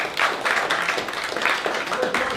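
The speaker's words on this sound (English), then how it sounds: "Give a round of applause for your comedians." Audience at a stand-up comedy open mic applauding the comedians, a dense, uneven patter of clapping at close range with the crowd noise sustained across the moment.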